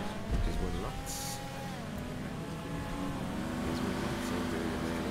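A racing car engine in Grand Theft Auto V whines steadily at high revs, its pitch rising and falling with gear shifts, continuous and loud throughout.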